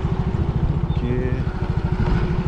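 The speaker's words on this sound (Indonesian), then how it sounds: "ini baru kelihatan beberapa motor warga ya yang melintas di jalan ini" Villagers' motorcycles pass along a rural village road, their engines putting out a steady, close, rhythmic putter and drone that holds loud for the whole stretch.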